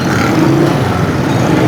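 Busy street traffic in the Shah Faisal Colony bazaar, a steady loud blend of car and motorcycle engines idling and revving nearby, with no clear voices.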